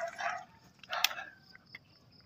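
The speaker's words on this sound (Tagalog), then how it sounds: "Aso mo yan?" A dog gives two short barks close by, separated by a pause, followed by fainter yips, in a quiet outdoor morning setting.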